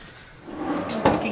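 A deep wooden drawer in a Disney Copper Creek two-bedroom villa slides open and shuts, a soft rolling rumble ending in a sharp thud, close by with no talking.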